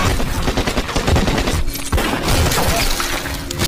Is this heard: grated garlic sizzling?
no